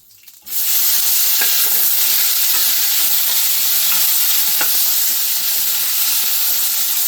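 Two tomatoes frying in a pan for Mangalore cucumber sambar, a loud, close, steady sizzle that begins abruptly and carries on with occasional soft stirring clicks.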